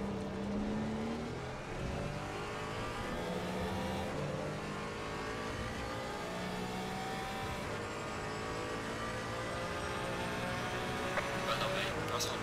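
Race cars run together during a practice race, one passing on the left, with steady engine drone and shifting revs under continuous track noise throughout.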